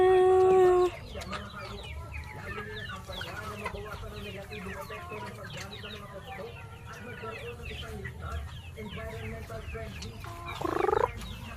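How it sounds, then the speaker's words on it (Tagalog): Black native chickens on a farm cluck in a busy, continuous chorus of short overlapping calls at close to mid distance, with a rooster-like call briefly rising near the end. "black native chicken."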